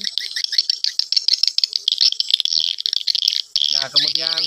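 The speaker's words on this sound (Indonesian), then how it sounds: "kemudian suara waret yang memanggil koloninya ya, mencari koloninya seperti itu" Recorded swiftlet colony call played back through a tweeter speaker: a dense, rapid stream of high, buzzing chirps and rattling twitters, steady and fairly loud, ending with a brief lower warbling burst.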